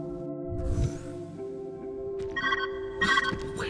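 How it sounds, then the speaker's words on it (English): A ringing tone sounds in the video game Viewfinder: sustained electronic notes, joined by brighter, louder bursts near the end. "Where's that ringing coming from?"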